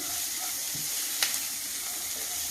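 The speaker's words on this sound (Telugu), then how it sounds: "ఉల్లిపాయలు వేస్తున్నానండి." Onions frying in a pan for rajma chaat hiss and sizzle steadily up close, with a brief clink of stirring partway through.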